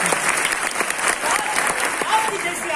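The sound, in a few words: audience applause at street play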